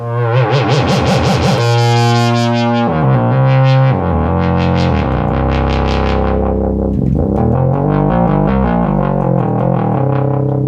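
A 1972 Minimoog synthesizer plays a sustained, loud buzzy tone whose filter is swept by modulation, the timbre rhythmically opening and closing, with no talking over it.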